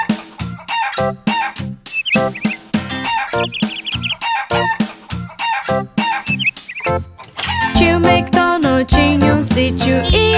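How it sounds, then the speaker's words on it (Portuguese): Chickens clucking and a rooster crowing in a Portuguese-language children's song about a farm, set to bouncy music with rhythmic, repeated cartoon-style bird calls and a fuller musical section toward the end. "E nesse sítio tinha umas galinhas, ia, ia."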